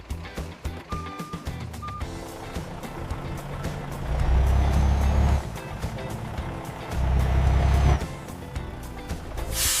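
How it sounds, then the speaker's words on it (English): Delivery trucks pulling away from a bakery warehouse: low diesel engine rumble swells twice, with a brief reversing-style beep early on and mechanical clatter throughout, no talking. "Trucks depart the warehouse, carrying fresh flavors to every corner of the country."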